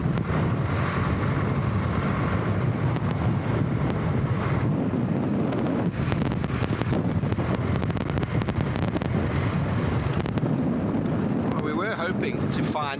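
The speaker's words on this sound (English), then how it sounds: "It's very windy now." Strong wind on a sunset safari roars and buffets the microphone steadily, loud and constant throughout, with brief gusty crackles.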